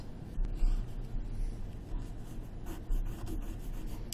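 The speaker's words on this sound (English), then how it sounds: "I'm going to use my pencil to trace" Pencil tracing the outline of a rhombus on paper through a plastic pattern-block template, a soft continuous scratchy rubbing at close range with small swells in pressure, heard alone.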